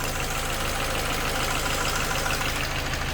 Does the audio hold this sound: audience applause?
no